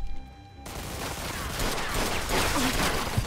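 Enemy gunfire in the Mafia 2 video game, a dense, continuous volley of shots crackling without pause after a brief quieter moment at the start, loud and close with no talking.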